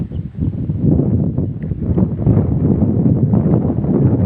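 Strong wind at sea roars steadily across the microphone with constant low buffeting and rushing noise, loud and unbroken throughout.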